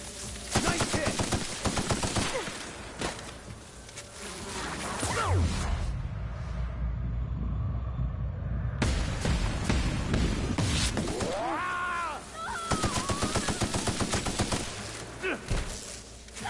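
Rapid bursts of gunfire from a gun in the video game The Outer Worlds, loud and close, come in repeated volleys with brief pauses, over game effects and whooshes, with some speech mixed in.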